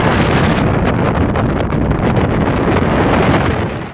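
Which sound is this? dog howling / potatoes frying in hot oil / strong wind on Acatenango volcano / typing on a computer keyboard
strong wind on Acatenango volcano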